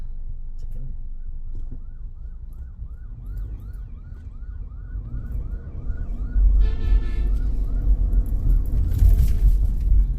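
An ambulance siren wails in a rapid, repeating rise-and-fall over low traffic rumble, then shifts to a harsher, buzzing yelp as it draws nearer.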